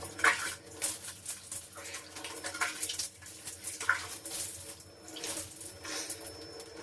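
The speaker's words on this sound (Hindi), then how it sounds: "लीपा पोती चालू करने के बाद पानी ठंडी हुई है, अब स्नान करना चालू।" Running water splashes and pours while someone bathes at home, a continuous close rush with uneven surges and drips, no voices.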